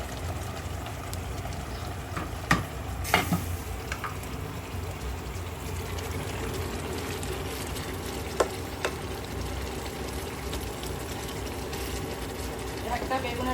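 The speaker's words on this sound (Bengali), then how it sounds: "একটা বেগুনের অর্ধেক দিয়েই কড়াই ভর্তি, এত বড় বেগুন আনছে ভাজি।" Halved large eggplant fries in oil in a full wok, a steady close sizzle running throughout with occasional sharp scraping clicks of stirring.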